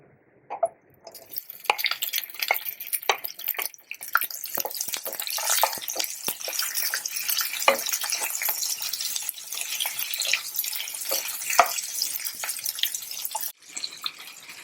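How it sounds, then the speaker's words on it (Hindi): Vegetables sautéing in a kadai for kadai paneer, a close, steady sizzle with crackles and spatters, broken by occasional soft stirring clicks, beginning after a brief quiet moment and cutting off near the end. "ये सब्जियों को सौते कर लेंगे"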